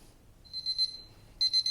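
A kitchen timer set for tea steeping goes off with rapid high electronic beeps, first in one short burst and then again after a brief pause, clear over a quiet room.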